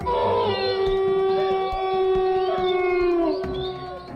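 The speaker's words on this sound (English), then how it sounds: "With the wolves and other animals going crazy" Wolves howl in overlapping, wavering, sustained tones, loud and continuous, with yips and other animal noise mixed underneath in an outdoor setting.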